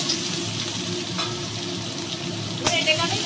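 Diced potato, pumpkin and ridge gourd dropped together into hot oil over tempered spices, giving a steady close sizzle and fry with a brief clatter of stirring near the end.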